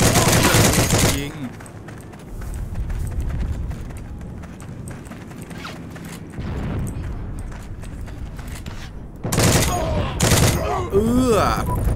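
Gunfire in the World War II shooter game Heroes & Generals comes as a loud opening burst, a long run of dense rattling shots and more sharp shots near the end, with a voice briefly speaking.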